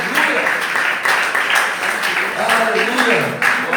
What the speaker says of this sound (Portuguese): salve de palmas bem forte para o Senhor